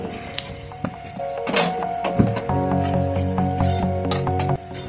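Whole garam masala of cardamom, cinnamon and bay leaves tossed into hot oil left from frying potatoes, giving a continuous crackling sizzle with light metallic clinks of a spoon against the pan and a steady background hum.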